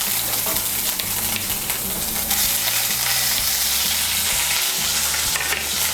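Ginger paste and green chilli paste fry in a hot pan for ghugni, a loud, steady sizzle filling the whole stretch with light stirring strokes underneath and no voices.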